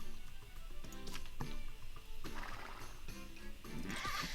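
A horse in the video game Alicia Online neighs and whinnies while it is being groomed, with soft brushing and clip-clop noises behind it, steady and fairly close.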